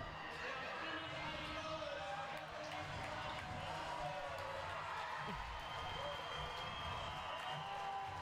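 A crowd at a Queensland Basketball League semi-final between the Gold Coast Rollers and Townsville Heat keeps up dense, steady cheering and applause, under a commentator's voice.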